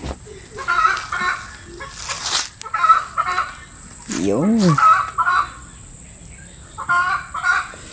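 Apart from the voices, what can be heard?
agitated chicken clucking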